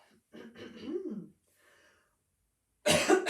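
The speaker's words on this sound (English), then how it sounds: "You have to excuse me, coughing." Two bouts of coughing from a person nearby, the first a rough, throaty cough, then a short pause and a sharper, louder cough.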